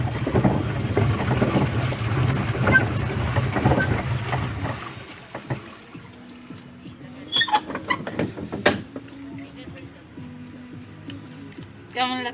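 A small hired boat moves on the water, giving a steady low rumble of water and wind for about five seconds. It then goes quieter, with scattered knocks and clunks of the hull and oars.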